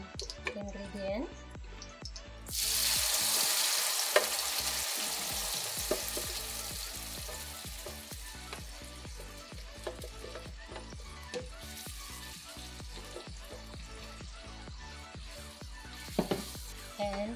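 Ingredients sauté in hot olive or coconut oil for a chayote tempeh dish with coconut milk, a loud sizzle surging up after a quiet opening and continuing steadily with scattered stirring clicks and spoon taps.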